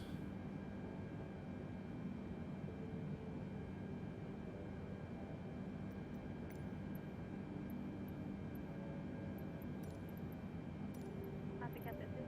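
Modded Boeing 747-8i airliner in a flight simulator, a steady broad engine and cabin drone holding level throughout, with faint intermittent clicks and ticks near the end.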